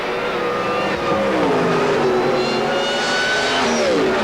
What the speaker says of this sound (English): Just listen to the whine of Freddie Hahn's supercharged engine.